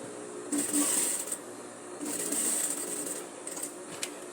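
A sewing machine stitches the lower edge of a pocket onto tailored shorts in two short bursts of quiet, rapid whirring with a pause between them.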